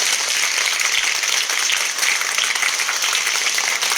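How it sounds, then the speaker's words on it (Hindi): Audience at a Holi celebration gathering for underprivileged children breaks into loud, continuous applause, a thick even wash of clapping that holds for about four seconds with only a brief dip midway. "एक बार इस शाम की आगाज एक जोरदार तालियों से कीजिए।"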